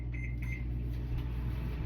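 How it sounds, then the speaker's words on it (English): A microwave oven hums steadily while it warms a blueberry breakfast round. The drone is even and close, with a faint high tone near the start and no voices. "I'm going to go put this in the microwave really quick just so I can slice it."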